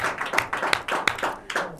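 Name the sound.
studio audience round of applause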